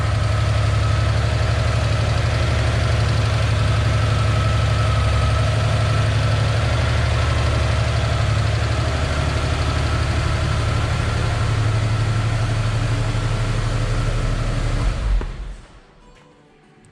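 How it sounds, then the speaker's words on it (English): A 1980 Porsche 911 SC engine idles loud and close after a cold start, a steady rumbling drone that holds for about fifteen seconds before cutting off abruptly. "All right, I'm going to start the car."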